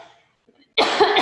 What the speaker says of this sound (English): I'm gonna like cough in my mask